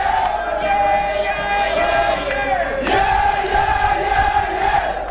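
Ethiopian football fans in a stadium crowd chant and cheer loudly and continuously for their team, a dense roar of massed voices with rising shouts, close and alone without commentary.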